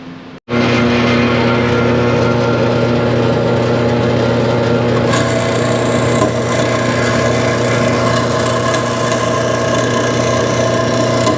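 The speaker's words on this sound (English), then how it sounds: "So now we can go over to the bandsaw and cut that piece off." A bandsaw cuts through a metal part for a Yamaha twin ignition conversion, starting with an abrupt onset and then holding a loud, steady whine and hum, with rasping cut noise brightening partway through.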